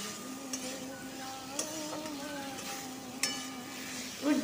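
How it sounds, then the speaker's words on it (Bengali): Spice masala frying in a pan for a bottle gourd curry with fish head: a steady low sizzle under occasional light scrapes of a spoon, close but quiet and without talking. "মশলাটা ভালো করে কষাতে হবে"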